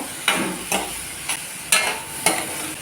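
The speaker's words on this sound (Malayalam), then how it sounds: "നമ്മുടെ സവാളയും ഈ വഴുതനങ്ങയും എല്ലാം കൂടെ കിടന്നൊന്ന് വഴന്ന് സോഫ്റ്റ് ആകട്ടെ" Onion and eggplant sautéing together in a pan for a pickle, five evenly spaced scraping stirs of a spoon over a soft background sizzle, close and fairly loud.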